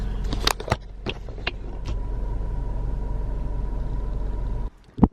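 A car engine idles and creeps through a tricky parallel-parking attempt on a street, a steady low rumble with a few sharp clicks and knocks early on before it stops abruptly near the end.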